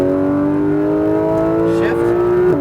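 Porsche GT3 RS engine revving hard under acceleration on a Las Vegas racetrack, a loud, steady rising drone that climbs in pitch before a quick shift near the end, with an instructor's voice faintly underneath.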